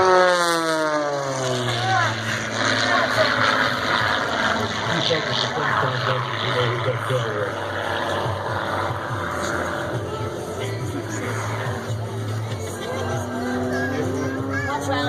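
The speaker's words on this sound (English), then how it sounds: "You can tell the airplane has a much larger engine, that's 330 horsepower." An aerobatic airplane with a 330 horsepower engine passes overhead, its engine note rising and then falling in pitch as it flies by, fairly loud over crowd murmur and a commentator's voice.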